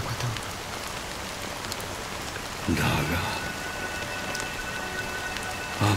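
Steady rain falls in a Honkai Star Rail scene, a continuous hiss of drops on surfaces, briefly joined midway by a louder splashing burst, with a short spoken phrase over it.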